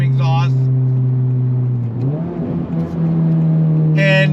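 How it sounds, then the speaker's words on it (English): A 2023 Honda Civic Type R with a full titanium exhaust drones loudly under acceleration, dipping through a shift then climbing again in a smooth rising tone; voices talk briefly at the start and end. "full titanium exhaust"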